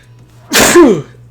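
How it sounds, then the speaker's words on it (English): A single loud, close sneeze, a short sharp burst with a quick breathy intake before it. "I'm going to sneeze again"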